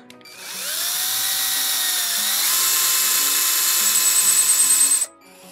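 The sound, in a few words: power drill boring a hole in a guitar fretboard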